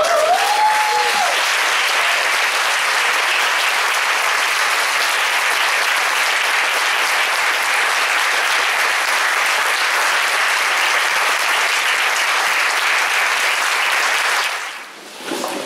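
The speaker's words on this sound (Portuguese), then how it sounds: "Vamos aplaudir." Sustained applause from a large crowd at a church service, steady and loud throughout, fading out abruptly near the end.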